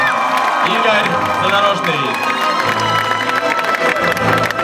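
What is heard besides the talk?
audience applause and cheering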